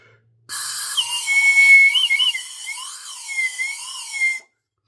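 A homemade slide whistle with a hand-cut reed plays a breathy, wavering tone that glides up and down for about four seconds, loud and close, with a hiss of escaping air and silence on either side.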